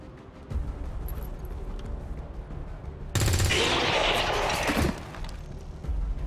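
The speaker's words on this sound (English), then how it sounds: "Shoot that guy" A burst of rapid gunfire from the PC game XCOM 2: War of the Chosen rattles loudly for about two seconds, rising out of a steady game ambience and then fading back into it.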